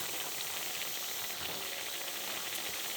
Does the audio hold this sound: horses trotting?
no